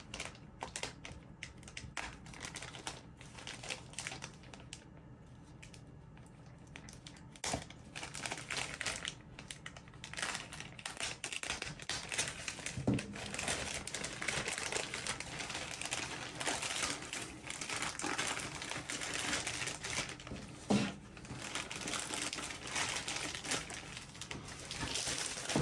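Plastic packaging around a boxed Atari VCS console being cut open with a knife, a long run of close crinkling, crackling and scraping with a few sharp snaps and no talk.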